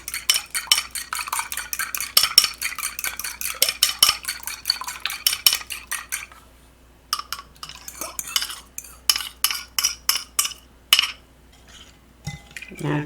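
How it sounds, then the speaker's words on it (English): Yeast roll batter with salt and beaten egg stirred with a spoon in a bowl, a brisk run of rhythmic scraping clinks that pauses briefly, then resumes more sparsely, close and clear with no talk. "Now just stir this together"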